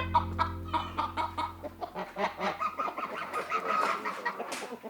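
Chickens cluck and squawk close by in a farmyard shared with ducks and geese, a busy run of short overlapping calls over a low steady background hum.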